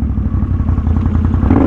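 A Can-Am Outlander ATV spinning its tires without traction, a loud steady engine drone with fluttering, churning rumble close to the microphone, never letting up.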